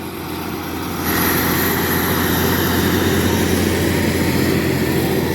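Loud, steady tractor engine drone while plowing a field in December, swelling after the first second, then holding a constant heavy rumble.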